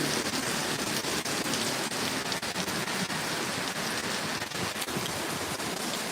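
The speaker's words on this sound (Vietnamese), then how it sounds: "mưa to rồi nhé mọi người nhé" Heavy rain pours down steadily in a Vietnamese home setting, a dense, loud, continuous hiss of drops drumming on surfaces from start to finish, with no voices.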